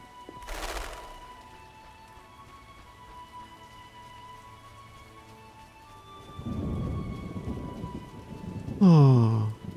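Steady rainfall hisses in the video game The Witcher Enhanced Edition, with a low thunder rumble partway through and a burst of louder sound near the end.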